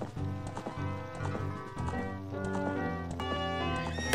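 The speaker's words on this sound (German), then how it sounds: "Yay, ich habe ein Pferd, wuhu." Epona the horse gallops in the game Ocarina of Time, with rhythmic clip-clopping hoofbeats running steadily over the game's melodic background music.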